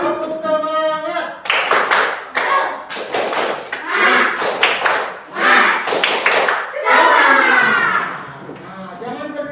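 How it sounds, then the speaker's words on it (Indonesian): Children stand and perform the tepuk semangat clapping chant in a classroom, with rhythmic bursts of hand claps and taps mixed with loud young voices chanting close by. "yuk semuanya berdiri, kita tepuk semangat dulu"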